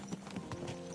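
Horse hooves clip-clop in Kingdom Come: Deliverance II, a steady run of close, moderately loud hoofbeats with no talk over them.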